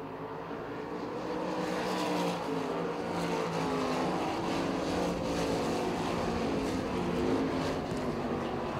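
410 sprint cars racing around the dirt oval at Port Royal Speedway during a heat race at the Blue Collar Classic, a dense, continuous roar of several engines held steady throughout at close range.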